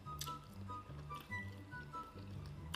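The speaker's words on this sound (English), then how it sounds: "And I'm going to drink some water now." Someone drinks water during a meal, giving soft wet gulps and squishy swallowing sounds in a quick uneven rhythm, faint and very close.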